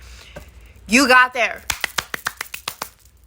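A person clapping hands, about a dozen sharp, close claps in a quick, fairly even rhythm, following a short burst of vocal sound.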